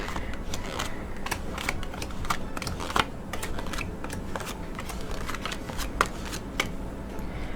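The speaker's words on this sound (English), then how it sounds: "let me put the other cards down" Tarot cards laid down and handled on a table, a continuous run of close, crisp card flicks and slaps with a few sharper taps, no talk.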